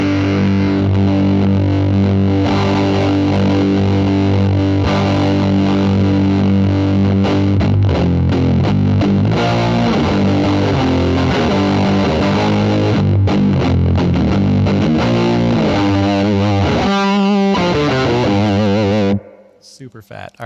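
Electric guitar through a JHS PackRat distortion pedal, loud and thick with a big, fat low register, sustained distorted chords and riffs that cut off abruptly near the end.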